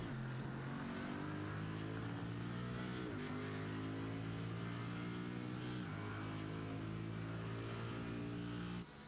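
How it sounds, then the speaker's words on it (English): A Mercedes race car in a sim racing video game holds a throaty, muscle-car-like engine note at Magny-Cours. It climbs steadily through the gears with two quick dips at gearshifts, sustained and fairly quiet, with no talk. "I have an old school muscle car sound coming from this Mercedes"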